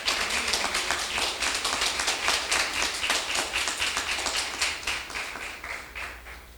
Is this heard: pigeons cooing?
no